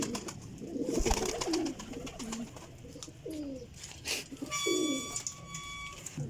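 Desi golden Teddy pigeons coo in a series of soft, low, rolling calls, close by, with faint bird chirps and light background noise around them.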